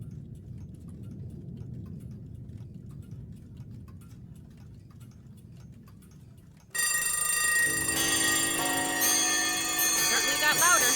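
Clocks from Pink Floyd's "Time": a faint, low rumble gives way partway through to a sudden loud burst of many bells and alarms ringing together, continuing to the end.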